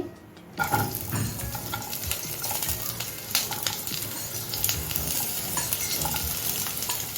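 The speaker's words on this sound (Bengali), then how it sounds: "একটা নন স্টিক কড়াইতে দুই টেবিল চামচ সাদা তেল দিয়েছি এখন আমি এক এক করে সব দিয়ে দিব এখানে পেঁয়াজ দিয়ে দিচ্ছি" Onion dropped into two tablespoons of white oil in a non-stick pan, bursting into a loud, steady sizzle after a short quiet start, with scraping stirs and light clinks of a spoon against the pan throughout.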